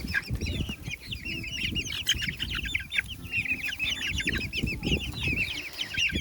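Young chickens, including cockerels and hens, cluck and chirp in a busy, overlapping chorus close by. A few wing flaps break in among the continuous calls, and no one speaks.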